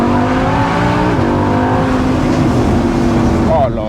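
A car engine revs hard and drops through the gears on a winding road, loud and close, with pitch sweeping up and falling back across several downshifts.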